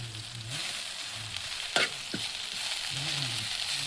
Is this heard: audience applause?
no